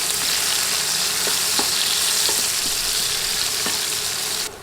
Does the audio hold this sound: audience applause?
no